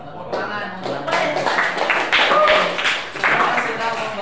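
A classroom of Indonesian schoolchildren claps on a teacher's cue, a quick rhythmic burst of clapping heard close and fairly loud over a lively room, with voices mixed in.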